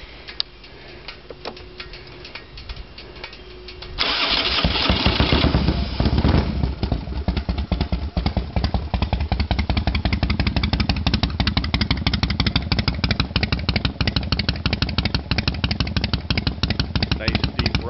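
After a few seconds of quiet, a 1997 Harley-Davidson Road King with Hooker exhaust fires up close by and settles straight into a loud, steady idle of evenly pulsing, deep exhaust beats.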